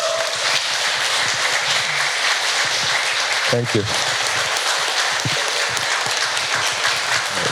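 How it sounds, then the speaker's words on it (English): A seated audience at a panel discussion on privacy and property in the digital age applauds the panelists. The broadband clapping is steady and fairly loud throughout, and a voice speaks briefly partway through. "a round of applause for my panelists"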